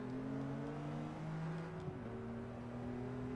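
A BMW Z4 3.0i engine in Gran Turismo 7 hums at a fairly steady pitch with slight rises and dips, a faint, smooth engine drone with no talk over it.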